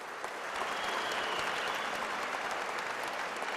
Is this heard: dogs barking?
no